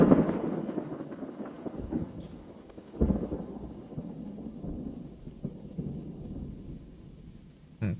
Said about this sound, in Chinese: 打雷加上下雨的一个声音